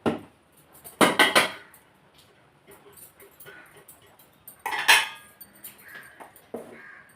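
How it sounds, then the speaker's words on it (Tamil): Cooked rice tipped out of a pot onto a plate in a home kitchen, with two bursts of clattering metal and utensil scraping and softer handling sounds between them. "இப்போ சாதம் நிமித்திடுவோமா இது ஒரு பிளேட்டில் கொட்டி நம்ம ஆற வச்சுருவோம்"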